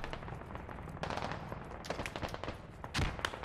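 Loud bursts of rapid automatic gunfire in the Squad military shooter game, with shots cracking close by in quick succession and a heavier report near the end.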